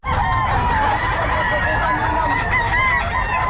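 A bullstag gamefowl rooster crows loudly and close at a busy pet market in Bocaue, with clucking fowl and market bustle around it.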